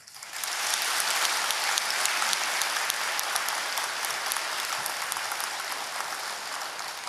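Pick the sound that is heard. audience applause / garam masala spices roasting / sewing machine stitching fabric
audience applause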